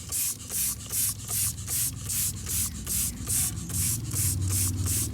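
Repeated hissing bursts of a spray bottle spraying cleaner on a 1978 Dodge D200 wheel, about a dozen quick pumps in a steady rhythm, close up, over a low background rumble.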